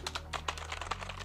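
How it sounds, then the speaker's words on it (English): Keys pressed on a computer keyboard used with a PS4, a quick run of about a dozen crisp clicks in close succession, moderately loud over a steady low hum. "I'm now pressing any button on the keyboard"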